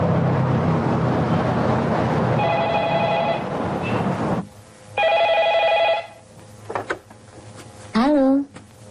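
Old-fashioned telephone bell ringing in two bursts indoors, loud and close, surrounded by muffled room noise, a few knocks and a short voice.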